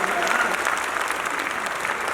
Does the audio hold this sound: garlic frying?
no